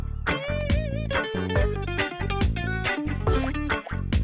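Rhythmic reggae-style electric guitar part with effects processing, played by the speaker's father: choppy, evenly spaced chords with sustained melodic notes bending above them, loud and close with no voices.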